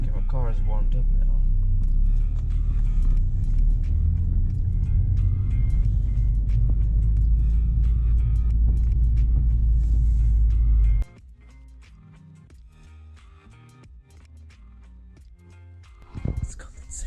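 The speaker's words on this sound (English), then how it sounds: "Okay, my car is warmed up now." A warmed-up car engine idles with a loud, steady low rumble for about eleven seconds, then cuts to a much quieter background with scattered clicks and knocks.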